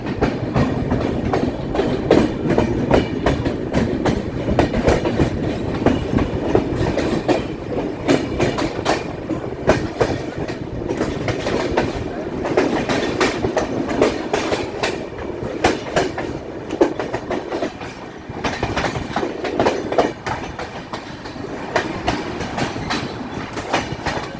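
Loud, continuous rumble of an Indian Railways express train moving at medium speed, with rhythmic clickety-clack of wheels over rail joints, close and steady throughout.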